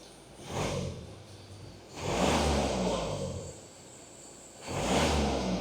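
A Volvo car engine is started and revved, producing three swelling bursts of roar that rise and fall quickly over a low idle, close by with no talk.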